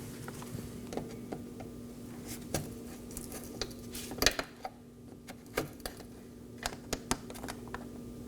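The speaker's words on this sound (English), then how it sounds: "I'll be using a trim tool to remove these." A trim tool works push pin clips loose on the radiator shroud of a 2018–2024 Chevrolet Equinox, producing quiet, close, irregular plastic clicks and snaps spaced across a faint hum.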